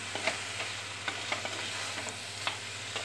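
Chicken thoran with masala stirred in a pan: a steady frying sizzle broken by repeated light scrapes of a spoon, close and alone.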